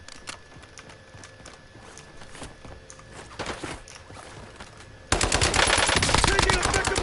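Call of Duty Warzone gameplay brings quiet scattered gunfire at first, then a sudden loud, dense burst of automatic fire near the end.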